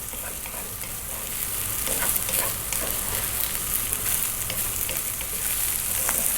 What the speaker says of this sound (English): Now what we need to do is fry this rice, so we're going to go for 5 minutes.